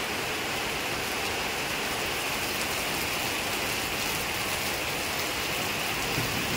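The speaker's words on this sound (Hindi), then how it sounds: "और बारिश रुकने को नाम नहीं ले रही, देखो जबरदस्त बारिश है।" Heavy rain pours steadily outdoors, a dense, even hiss of drops beating on surfaces, loud and close throughout with no break.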